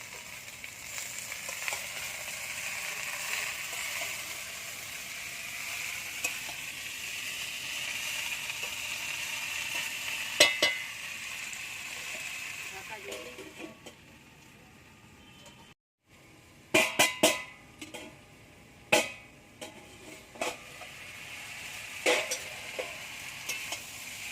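Potato and malabar spinach sizzle steadily in a frying pan, a bright continuous hiss broken by a brief silence and then sharp clicks and scraping stirs as the greens go in.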